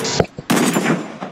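Gunfire from the mobile shooter game Free Fire, a loud burst of sharp shots with a short gap, then a dense sustained volley that trails off near the end.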